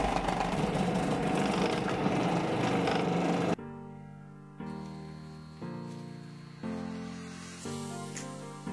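A food blender runs with raw vegetables for soup, giving a loud continuous whir at first, then a series of shorter pulsed bursts with pitch shifts between them, close and with no voices.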